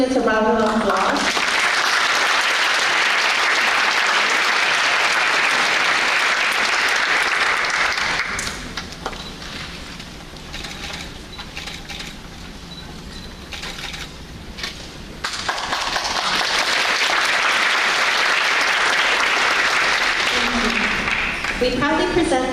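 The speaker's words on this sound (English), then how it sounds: "Please give all these students a round of applause." Audience applause for university scholarship recipients at a Vietnamese-American scholarship ceremony: loud, dense clapping for several seconds, easing to a quieter stretch midway, then swelling back to full strength.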